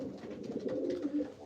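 Pigeons in a breeding loft coo softly and continuously, several low throaty calls overlapping close by with no talking.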